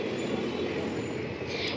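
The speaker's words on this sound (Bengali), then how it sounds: "গঙ্গা নদীর ওপর থেকে যাচ্ছে ট্রেনটি জুবলি ব্রিজ হয়ে" A superfast express train rumbles steadily across the Jubilee Bridge over the Ganges with a dense, continuous roar and faint metallic squeal, loud and close throughout.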